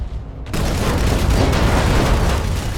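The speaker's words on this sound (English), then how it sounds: "So we were killed by a TR anti-air turret." A TR anti-air turret in the video game Planetside 2 unleashes a loud, dense roar of fire that starts abruptly and stays heavy and sustained, with no talking over it.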